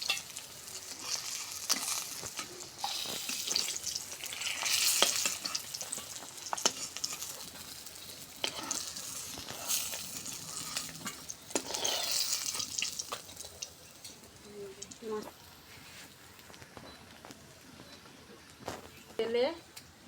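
Food frying in a pan on a home stove gives a steady sizzling hiss, broken by repeated clattering stirs and scrapes that swell and fade, with a few louder knocks near the end.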